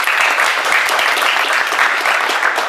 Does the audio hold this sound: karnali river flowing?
no